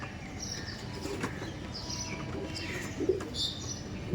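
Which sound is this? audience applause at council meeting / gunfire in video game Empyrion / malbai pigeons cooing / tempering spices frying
malbai pigeons cooing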